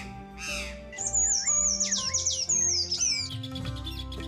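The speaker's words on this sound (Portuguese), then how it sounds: "Uma variedade de aves inicia a cantoria para atrair" Several songbirds, including thrushes, sparrows, wrens and tanagers, sing together in mating season, with loud overlapping whistled phrases and chirps close by, over steady background.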